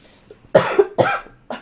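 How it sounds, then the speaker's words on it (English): Three harsh human coughs close to the microphone in quick succession, loud against a quiet background. "I had a little bit of a coughing fit there"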